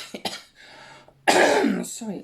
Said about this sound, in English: Cough when I've been talking too much